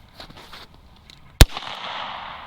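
An AEA Defender V2.0 short barrel air rifle fires a Texoma 125 grain round: a single sharp, very loud crack, followed by a hissing, fading wash of air and faint background noise.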